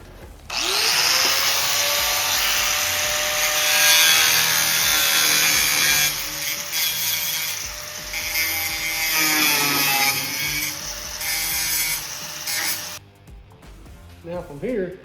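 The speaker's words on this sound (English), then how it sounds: "get my Metabo and cut both of those clips out" A Metabo power tool cuts clips out of a 1971 Chevelle windshield gutter, whining loud and close with shifting pitch as it bites and eases off, then stops near the end while someone talks throughout.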